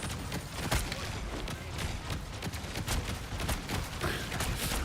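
Rapid bursts of fireworks explosions in a shooter video game played against easy bots, crackling densely and loudly throughout with no speech.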